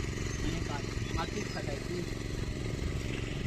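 A tractor engine runs steadily with a constant low mechanical drone, fairly close, while people talk over it.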